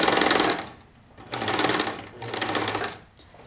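Close, loud sewing machine stitching a back tack on a DIY face mask: two or three bursts of rapid mechanical whirring separated by brief pauses as the stitching reverses.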